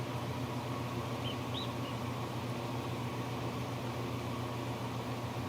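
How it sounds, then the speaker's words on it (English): Egg incubator running with a steady mechanical hum and airy whir, constant and unbroken, with a faint chirp briefly audible beneath. "It's a shame the incubator's making so much noise right now"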